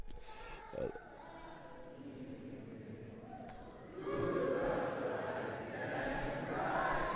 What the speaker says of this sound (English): The crowd's drowning her out.